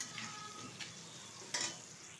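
Small potato pieces frying in a pan for a chicken cashew dish are stirred, giving a steady close sizzle broken by a few louder scraping bursts of the spoon, with no talk.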